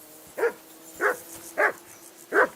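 A dog barks four times at an even pace in the video game Kingdom Come: Deliverance 2, with each bark clear and fairly close over a quiet background.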